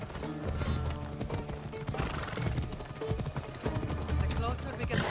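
A horse gallops in the Assassin's Creed Odyssey video game with busy rhythmic hoofbeats and snorts under game music, and a voice speaks briefly.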